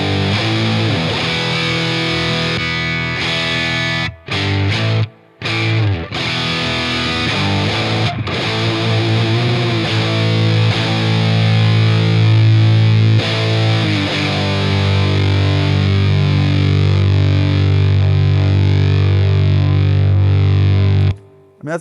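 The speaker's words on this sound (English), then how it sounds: "So let's turn up the gain." Electric guitar played through a Walrus Audio Voyager MK II transparent overdrive with the gain turned up, giving thick, sustained distorted chords that ring continuously, loud and close with only a couple of brief breaks.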